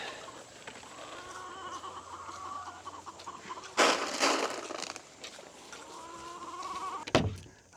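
Chickens cluck and squawk on a farm with sheep nearby, a scattered, moderately close flurry of calls broken by a burst of rustling noise and a sharp knock.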